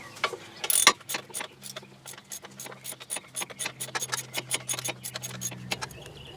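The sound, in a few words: wrench removing ABS wheel speed sensor bolt on 1998 Chevy Lumina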